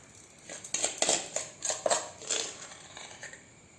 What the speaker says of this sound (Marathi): 1 चमचा हळद टाकली आहे, मोठा चमचा आहे.